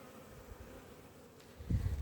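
Low, steady bee buzzing hums throughout, swelling noticeably louder near the end as a bee seems to pass close by.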